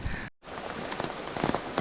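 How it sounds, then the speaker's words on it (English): Steady rain falls on surfaces in Sapa, Vietnam, a soft continuous patter with a few nearer drops, heard close with no voices and a brief cut in the middle. "So today I didn't check the weather, so that's the reason why it's raining now."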